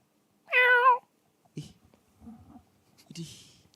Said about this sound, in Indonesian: Woi, ada kucing.